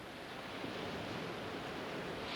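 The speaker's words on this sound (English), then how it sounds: "it's the powerful breakers thundering onto the beaches of Oahu" Powerful surf breakers thunder onto a beach on Oahu, Hawaii, a steady, loud, broadband roar of crashing water with no voices over it.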